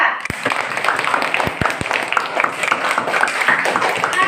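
Schoolchildren in an elementary school classroom clap for a student group, a loose, moderately loud patter with a few sharp distinct claps, while voices chatter underneath.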